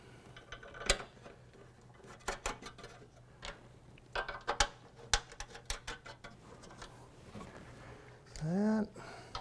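Four small thumb screws being fastened on a Redbird TD flight simulator, faint scattered clicks and ticks of metal and plastic parts, with a brief higher scrape near the end.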